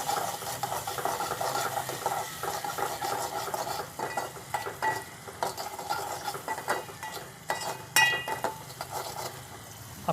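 A small spoon stirs cumin powder, salt and turmeric together in a pan for a home-style varan, with soft repeated scraping and metal clinks over a faint sizzle, fairly quiet and close.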